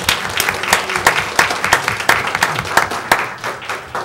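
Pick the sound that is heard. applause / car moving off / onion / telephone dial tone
applause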